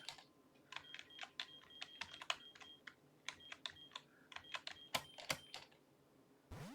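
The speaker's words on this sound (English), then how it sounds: "all you guys are going to hear is just a keyboard freaking being tapped" Quiet, steady tapping on a computer keyboard, keys clicking in quick irregular bursts with short pauses, close but faint.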